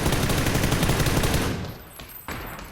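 Bursts of rapid automatic gunfire in a shooter video game, loud and dense for over a second, then fading to a single sharp shot, no talk.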